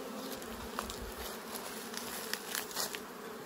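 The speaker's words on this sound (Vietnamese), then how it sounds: "cứ lấy cà phê, lấy lá cà phê về khô khô đi là con ong nó bay đi thôi" Swarm of wild forest bees buzzing steadily and close during a honeycomb harvest, a dense continuous drone with a few louder passes of individual insects near the microphone; no speech.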